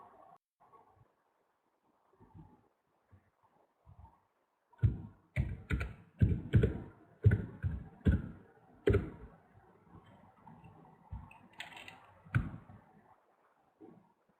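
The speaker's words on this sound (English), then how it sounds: "I'll just type it." Keys on a computer keyboard struck in an irregular run of sharp, close taps, starting after a few quiet seconds and thinning out toward the end, with no voices.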